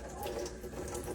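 Running tap water rinses a plastic baby bottle insert at a sink, a continuous close splashing hiss that stays even throughout the short stretch.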